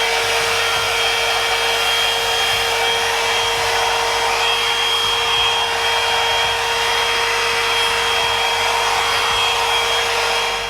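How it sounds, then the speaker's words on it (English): A blow dryer runs steadily at close range for the whole stretch, blowing on the hair of a lace closure wig during a beginner install, with a constant whooshing roar and a faint whine and no voices. "this is when I get the blow dryer"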